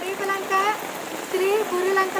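Rain falls steadily outdoors as a continuous close hiss while a voice speaks over it.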